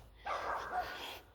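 A small dog barks in a short yappy burst, fairly close, with a faint background hiss.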